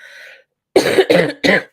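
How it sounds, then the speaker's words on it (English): Three harsh coughs in quick succession, close and loud, following a brief faint tone. "still a little bit of a cough"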